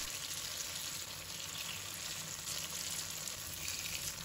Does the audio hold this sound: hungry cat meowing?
no